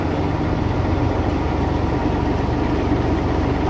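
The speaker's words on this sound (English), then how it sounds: "Bringing my RPM up to 900." A truck engine held at about 900 RPM during an air brake test, a steady low rumbling idle-like drone that stays constant and close throughout.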